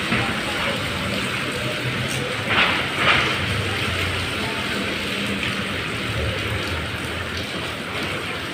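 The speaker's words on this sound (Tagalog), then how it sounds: "Umulan siya ngayong gabi." Rain falls steadily at night in Cubao, a dense, even hiss that holds at the same level throughout, with a couple of slightly louder splashy moments partway through.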